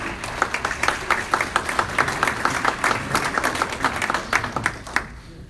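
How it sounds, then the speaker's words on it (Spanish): Applause at an anniversary thanksgiving service, a hall full of people clapping in a steady rapid patter that fades out near the end. "Recibamos con un fuerte aplauso."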